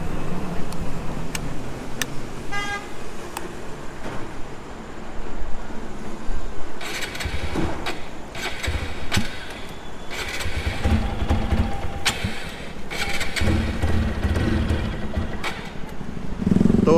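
A TVS Apache 200 4V BS6 motorcycle with a missing problem cranks with the self-starter in repeated short bursts, briefly catching and sputtering before dying, with clicks and mechanical clatter close by.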